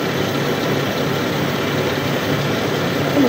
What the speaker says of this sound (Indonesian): Nah, sekarang dengarkan suara mesin ya.